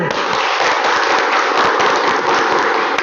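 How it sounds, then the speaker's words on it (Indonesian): Classroom applause from students, fast, loud and continuous clapping from a nearby group that fills the whole moment without pause. "Baik, tepuk tangan."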